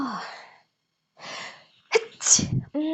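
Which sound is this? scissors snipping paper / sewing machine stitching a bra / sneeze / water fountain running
sneeze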